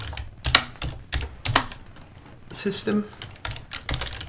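Rapid clicking keystrokes on a computer keyboard come in irregular bursts and pauses, close and crisp, while a person briefly speaks between the bursts.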